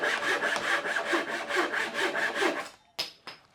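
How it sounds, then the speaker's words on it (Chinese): A hand saw cutting through an old, century-old wooden roof beam, a close, even back-and-forth rasp in regular strokes, ending with a couple of sharp knocks as the cut finishes; no voices. "我这样自然的切，不要去扭锯子，它就可以切出很漂亮的90度"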